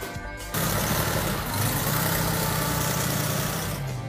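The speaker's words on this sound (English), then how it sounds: "this engine that Gary just did is fantastic. It's really smooth" A freshly rebuilt car engine idles smoothly and steadily at close range after a brief quiet start, with a continuous low rumble and no talking.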